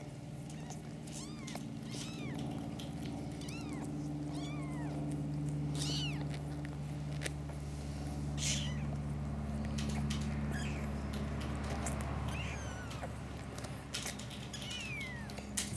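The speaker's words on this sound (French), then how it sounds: "Bienvenue, bébé chat." A newborn kitten mews repeatedly in thin, high cries of varying length, close and fairly clear over a low steady background hum, with brief pauses between calls.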